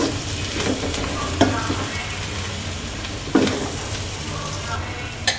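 Egg fry tossed with coriander leaves in a hot pan, a steady close sizzle with occasional louder scrapes of the spatula against the metal, moderately loud throughout.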